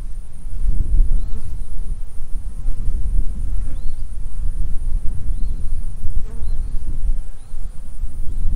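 Dense, steady buzzing of many honey bees close by at an open hive, a loud continuous drone with occasional individual bees zipping past.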